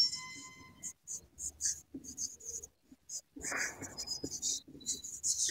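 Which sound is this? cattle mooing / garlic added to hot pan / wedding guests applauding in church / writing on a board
writing on a board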